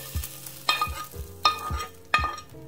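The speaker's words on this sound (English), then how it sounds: "I'm adding all the veggies now." Vegetables tumble into a pot of ramyun in a few distinct drops, each a near thump followed by brief clattering and soft sizzle, with a low simmering bubble underneath.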